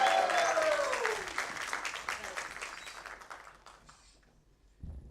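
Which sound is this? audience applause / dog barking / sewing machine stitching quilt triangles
audience applause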